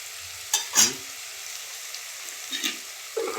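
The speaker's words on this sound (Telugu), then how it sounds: "వంకాయలు వేస్తున్నా." Eggplant frying in a pan, with a few brief stirring scrapes over a quiet, steady sizzle.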